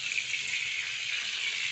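Peas and mushrooms fry in oil in a pan, giving a steady, close, hissing sizzle with no breaks.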